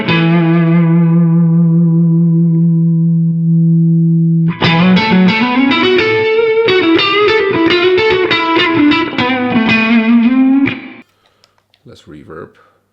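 An electric guitar through a Klon overdrive pedal and an IK Multimedia ToneX ONE amp modeler plays a sustained chord, then a run of plucked notes and short phrases with a mild overdriven edge, ending abruptly into near silence.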